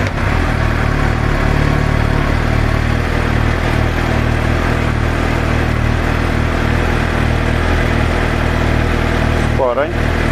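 Suzuki GSX-R 750 L4 motorcycle engine running after starting, a loud, steady idle rumble close by with a constant low throb and a brief disturbance near the end.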